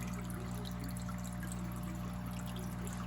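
Nutrient solution drains into a small hydroponic reservoir while it is being stirred, a steady soft trickle and pour of liquid lasting the whole stretch over a constant low mechanical hum, with no voices.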